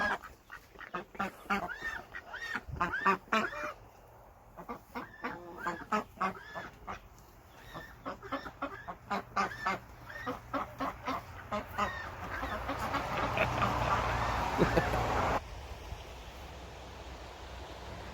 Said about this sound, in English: Ducks and chickens won't stop following us around.